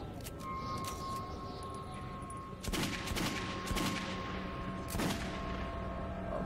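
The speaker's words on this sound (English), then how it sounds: "Someone shot him." Gunfire in the video game Metro 2033: a few sharp, loud shots spaced about a second apart ring out over a steady background hum of game ambience, with no voices.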